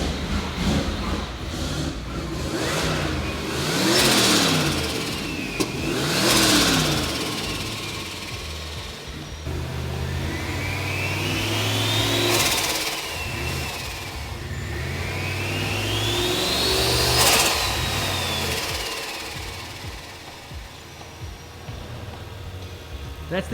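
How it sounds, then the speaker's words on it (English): Turbocharged V8 engine in a 20-year-old project car, revving in bursts with rising and falling whine and turbo whistle, heard close alongside people talking. "Can you give it a rev so I can hear that turbo noise?"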